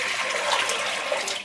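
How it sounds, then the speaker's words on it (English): Fresh drinking water poured from a jug, a continuous splashing gush lasting just over a second, close and fairly loud, tapering off at the end, with no talking. "Just pour it in"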